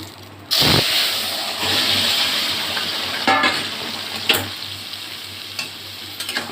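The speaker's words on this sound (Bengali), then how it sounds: "আমি এবার তরকারিটা ঢেলে দিচ্ছি" Ridge gourd and potato curry hits hot oil with a loud burst of sizzling that settles into a steady fry, with occasional stirring scrapes and clinks, close and without speech.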